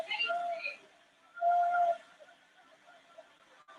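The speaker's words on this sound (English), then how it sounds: "And that is time. Full-time whistle." Referee's full-time whistle at a professional football match, Angers SCO against West Ham United, sounding as a couple of shrill blasts, the longest about half a second, ringing out over crowd noise with commentary around it.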